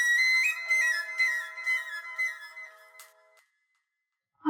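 A mobile phone ringtone plays a bright, melodic electronic tune for about three seconds, then cuts off into silence; no voices are heard while it rings.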